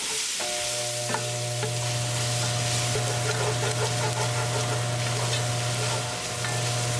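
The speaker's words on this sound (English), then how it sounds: "Cooking our tadka for 1 minute." Tadka spices and tomatoes frying in a pan on medium heat for a dahi wala lamb curry: a steady, close sizzle running throughout, with a constant low hum from the stove or a fan beneath it.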